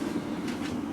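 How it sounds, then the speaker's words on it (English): A brand new double-decker train rumbles along in a steady, low, continuous hum with faint rhythmic rail texture, heard from inside the carriage. "And this is a brand new train, it looks like."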